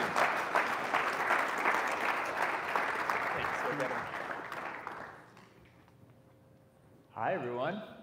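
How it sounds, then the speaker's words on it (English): An audience at an evening teaching general session applauds steadily for about five seconds in a dense, even round, then fades into quiet before a voice begins speaking near the end. "Let's give him a round of applause."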